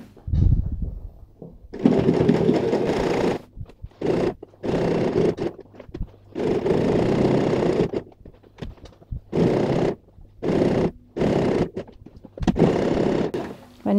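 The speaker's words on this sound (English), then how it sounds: "So let's just go ahead and start an edge stitch." A sewing machine edge-stitches a fabric handbag, running in repeated whirring bursts of a second or two separated by brief pauses as the needle is dropped and corners are turned, close and fairly loud.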